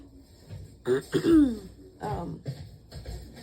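A person coughs and clears their throat a few times up close, in short rough bursts separated by brief pauses.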